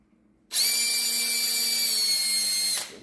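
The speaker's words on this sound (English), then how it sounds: "Drill that out." A power drill bores out a brass part, a steady high-pitched whine that starts abruptly, holds loud and constant for over two seconds, then cuts off, alone with no talking.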